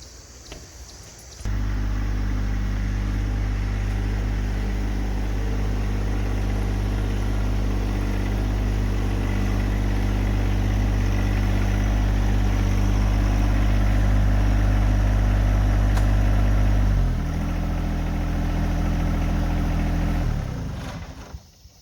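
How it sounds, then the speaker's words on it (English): A John Deere 1025R compact tractor runs steadily at close range, its engine droning evenly for a long stretch before the pitch drops slightly and the motor winds down and cuts off. "I brought down Kermit, our John Deere 1025R tractor"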